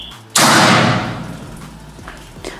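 A single sharp air rifle shot from a PCP rifle fed by a 500cc bottle, fired outdoors: one loud close crack with a long ringing decay, then quiet with a faint knock near the end.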